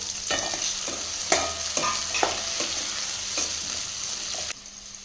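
Onions and tomatoes sauté in a pan for a drumstick masala kara kuzhambu, with a steady sizzle throughout and a series of spoon scrapes and stirs at an uneven rhythm that stop abruptly near the end.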